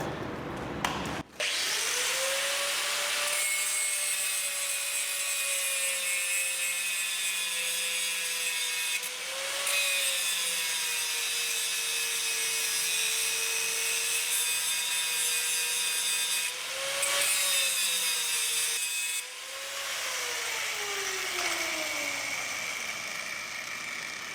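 An angle grinder cuts through a seized lower suspension ball joint on a Peugeot 407. It spins up and whines steadily in long loud passes, dipping briefly between cuts as the blade bites.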